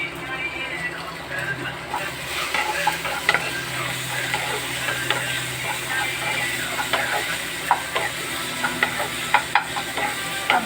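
Crushed garlic fries in oil in a pan over a gas flame, cooking for a rohu fish and potato curry. A steady, close sizzle runs throughout, broken by small scraping stir sounds, with a faint voice in the background.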